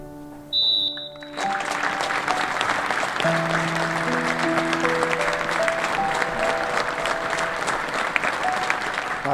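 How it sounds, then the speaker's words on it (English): A stadium crowd gives a minute's applause for John King, starting on a short referee's whistle and swelling into a sustained, dense roar of clapping, with tones from an organ or horn sounding underneath. "We're now going to have a minute's applause for Kingy, which will start and end on the referee's whistle."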